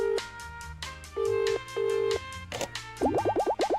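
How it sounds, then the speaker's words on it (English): Video game telephone dialing: a sequence of steady electronic dial tones, some held and some clipped short, then a rapid run of warbling ring pulses, loud and alone. "Please wait 1 second while I phone my boss."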